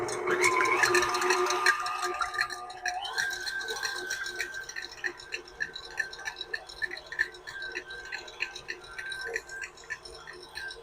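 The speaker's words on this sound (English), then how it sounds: "we want to mix this at a fairly high speed and make sure that our egg whites get good and fluffy" High-speed whir of an electric mixer whipping egg whites until fluffy, a steady buzzing drone with a rapid ticking rattle from the beaters running continuously for several seconds, close and fairly loud.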